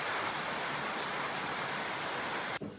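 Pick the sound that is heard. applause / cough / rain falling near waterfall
rain falling near waterfall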